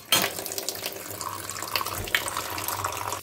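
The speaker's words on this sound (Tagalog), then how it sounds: "maghugas na ako ng isda, pang primer ko na" A kitchen tap runs steadily into a sink while fish are washed, with a continuous close splashing stream and a few clunks of handling, no talking.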